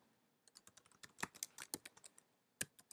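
Rapid clicking of a computer keyboard as custom CSS is typed into a WordPress theme editor, keystrokes irregular and close, some louder than others, with no talking.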